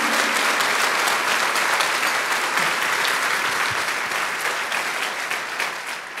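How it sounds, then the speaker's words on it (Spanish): A church congregation claps loudly at a pastor's call during a sermon, a thick, continuous wall of applause that fills the room and eases off only slightly toward the end. "démosle un fuerte aplauso a nuestro Dios."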